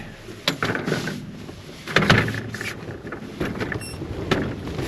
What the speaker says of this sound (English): I had hoped that wind was done. It's whipping pretty good again.